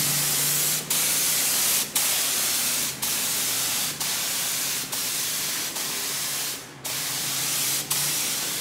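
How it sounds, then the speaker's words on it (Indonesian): A spray gun set to a fine mist mists pretreatment liquid onto a t-shirt for printing, a steady close hiss broken by brief pauses about once a second, with no talking. "Saya set spraynya halus supaya bisa kesemprot semuanya dengan rata."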